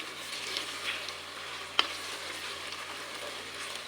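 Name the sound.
chicken frying in a pan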